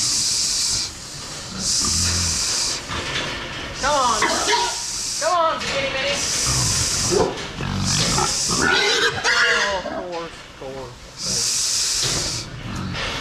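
Repeated squealing grunts and snorts from a fat hog on an Iowa farm, close by, coming in short bursts over steady hissing noise.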